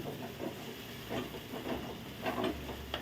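Sigadi dried fish frying in oil makes a continuous soft hiss and sizzle at moderate loudness, with slight swells throughout.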